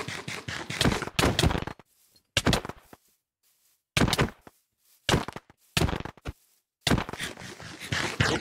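Hits landing on another player in Minecraft, heard as short sharp thunks in uneven bursts with silent gaps between them, loud and close.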